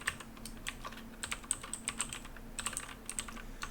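Rapid typing on a computer keyboard, a password being entered: a dense run of close, crisp key clicks with brief pauses, alone in a quiet room.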